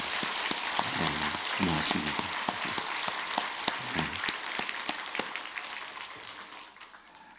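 Congregation in a church service applauds for several seconds with soft, moderately distant clapping that tapers off, while someone briefly says thanks over it.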